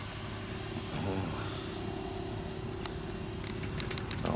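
A HobbyKing Jetstar 64mm 11-blade 4S EDF model jet with an 800mm wingspan flies on its maiden flight, giving off a steady, moderately loud ducted-fan whine and roar that holds throughout, with a few brief clicks near the end.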